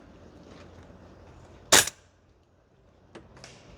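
A single sharp shot from a 416 MWS gas blowback airsoft rifle cracks out at a range, followed by a faint distant impact and soft outdoor ambience.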